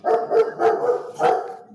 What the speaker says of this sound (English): Dog is in our garage.